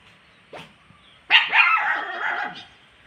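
A dog gives a short yip, then a loud, close run of continuous barking that lasts well over a second against quiet surroundings.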